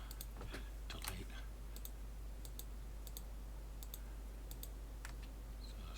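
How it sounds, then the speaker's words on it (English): Sharp, faint mouse clicks repeating in quick irregular bursts, one after another, as 3D print supports are deleted in Chitubox Pro for a Phrozen Mega 8K, over a steady low hum. "I'm just going to go to town with my right click button, delete"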